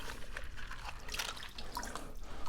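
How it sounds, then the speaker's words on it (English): Hand-washing the tray of a Fluval 307 canister filter under water, with soft splashing, trickling and dripping close by at low volume. "washing the sides of this tray by hand just to get rid of any of the snails"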